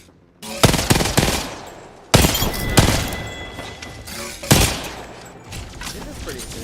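Bursts of rapid gunfire from a gun in a video game, loud close volleys starting abruptly and decaying between three separate bursts, with no clear talk over them.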